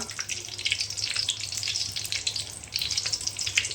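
Whole cardamom, cinnamon, cloves and star anise sizzle loudly in hot oil in a pan while being stirred, a steady close crackling hiss with small scraping bursts throughout.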